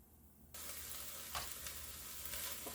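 Black beans simmering in a pot for a one-pot black bean soup, a steady bubbling sizzle that starts suddenly and holds close and even, with a few soft knocks and stirs.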